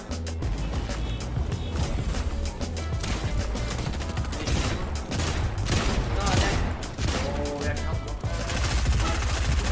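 Rapid bursts of automatic gunfire in a Fortnite match crackle almost continuously, layered shots near and far with a player talking over the action.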